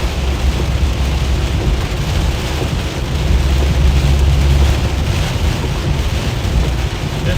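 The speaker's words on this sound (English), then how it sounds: "We are right on the edge of the rain here." Heavy rain pours steadily during a Midwest storm chase, a dense, constant roar with wind noise, loud and unbroken, no voices.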